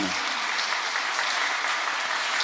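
Steady, dense applause from a church congregation at a Catholic Holy Spirit seminar, sustained and even throughout with no pauses.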